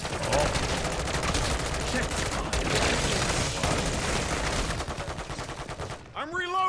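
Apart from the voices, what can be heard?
gunfire in a gunfight, video game Call of Duty MW3 Zombies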